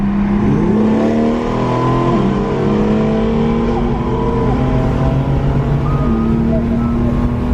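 A BMW M4 and a Scatpack Dodge Challenger 392 roar loudly through a third-gear roll drag race, engine notes rising in steady pitch sweeps as they accelerate side by side, sustained and close throughout.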